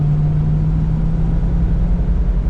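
A 1957 Cadillac Eldorado Biarritz engine drones steadily with a low, even hum throughout, building slightly as it accelerates, close and loud with no voices.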